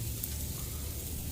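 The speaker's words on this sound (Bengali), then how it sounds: "chicken fry" Chicken sizzling as it fries on a barbecue grill, a steady, even crackle and hiss held close with no break in its level.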